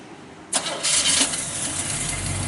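A 1957 Chevrolet Bel Air engine cranks briefly and catches, settling into a steady low idle rumble up close.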